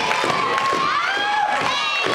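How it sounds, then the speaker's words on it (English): Wrestling show crowd cheering and shouting, a loud sustained roar of many voices with rising yells and whistle-like cries, close and continuous. "Listen to this crowd."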